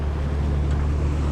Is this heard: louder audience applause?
no